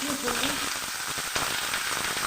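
Turmeric dropped into hot oil in a kitchen pan crackles and sizzles with a dense, bright hiss, a brief burst of frying noise close to the microphone.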